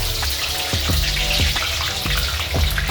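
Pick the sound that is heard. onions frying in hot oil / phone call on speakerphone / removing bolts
onions frying in hot oil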